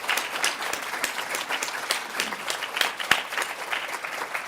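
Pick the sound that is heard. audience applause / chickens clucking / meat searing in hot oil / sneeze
audience applause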